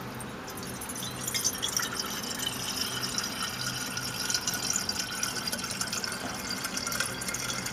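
Distilled water trickles steadily as it is poured, a close, moderately quiet continuous pour with faint clinks and splashes over a constant hiss.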